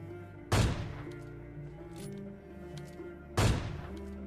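Two loud gunshots crack out in a mobile battle-royale shooter game, about three seconds apart, each with a booming decaying tail over a low background of game music and ambience.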